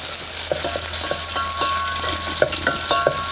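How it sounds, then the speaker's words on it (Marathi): Onion and garlic sauté in a pan with a loud, dense sizzle and repeated rhythmic scrapes and taps of a spatula stirring throughout. "लसूण चांगलं लालसर रोजपर्यंत आपल्याला हे परतून घ्यायचं"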